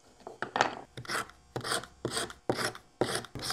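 Cherry wood being shaved by hand for a traditional Japanese craft, in a steady rhythm of about seven rasping strokes, close and clear, with no talking.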